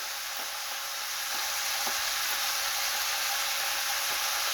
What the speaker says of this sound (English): So we have our chopped onions here that's going in.